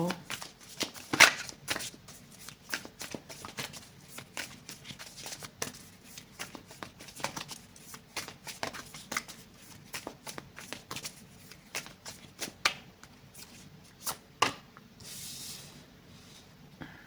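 Tarot cards are riffled and shuffled in quick repeated bursts of papery flicks and snaps, close and crisp, with someone speaking softly in Thai throughout.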